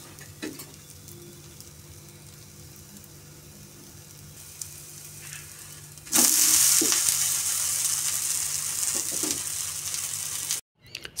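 Oil sizzling on a hot pan as jowar (jonna) dosa cooks, a quiet crackle at first that swells into a loud, steady broadband hiss halfway through, with a few soft clinks, then cuts off abruptly near the end.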